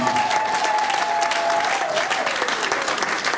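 A church congregation applauding, a dense, loud, sustained clapping that fills the room, with a voice calling out over it and no break in the applause.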